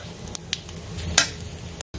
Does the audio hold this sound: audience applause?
no